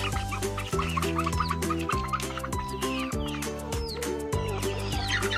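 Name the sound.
Rhode Island Red and Hobart chickens clucking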